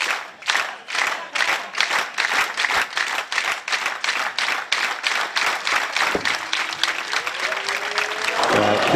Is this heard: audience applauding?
yes